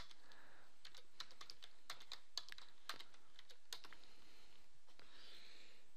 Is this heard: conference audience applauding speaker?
no